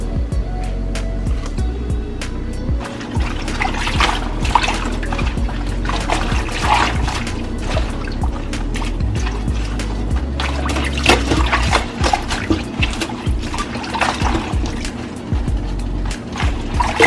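Collard greens being washed by hand in salted water, with continuous sloshing, splashing and trickling as the leaves are swished and lifted, close and fairly loud, with no talking.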